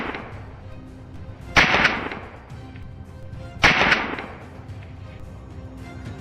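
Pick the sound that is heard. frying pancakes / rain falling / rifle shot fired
rifle shot fired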